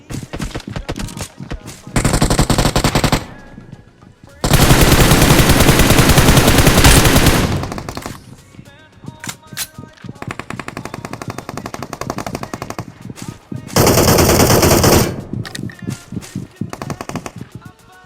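M4 rifle gunfire in the mobile battle royale game BGMI: loud, sustained automatic bursts, one short, one long and one mid-length, with quieter distant shots and game noise between them.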